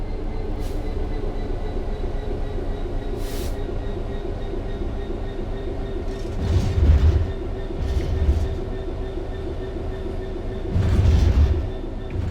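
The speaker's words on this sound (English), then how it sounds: "The train will then coast on level ground" A train in Train Simulator World 3 coasts on level ground with a steady low rumble and hum, punctuated by a few louder thumps and clacks from the wheels.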